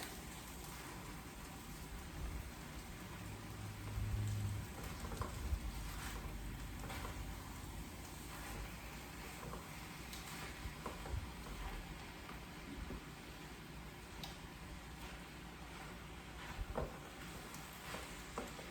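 Vegetables and thyme sizzle in a hot pan, a steady soft crackling hiss that runs throughout at low volume with faint scattered pops.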